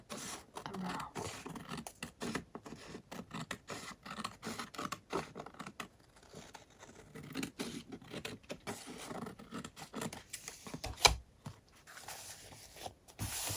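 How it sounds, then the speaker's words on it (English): Scissors snipping around the outline of a printed paper ephemera folio for a junk journal, a close run of quiet, irregular crisp cuts and paper rustles with no talking. "now all I need to do is just cut"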